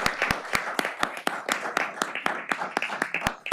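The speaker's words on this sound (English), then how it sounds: "Let's give Navya a big round of applause." Applause at a city council meeting, a small group clapping with sharp distinct claps in a brisk uneven rhythm over a soft room murmur, close and moderate in level.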